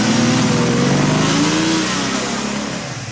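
A car's engine revs loudly as it pulls away on a 1970s country road, the throaty note holding strong then fading gradually as it moves off.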